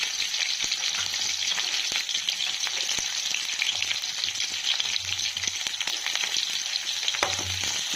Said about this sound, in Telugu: వీటిని బాగా బ్రౌన్ కలర్ వచ్చేదాకా ఫ్రై చేసుకుందాం.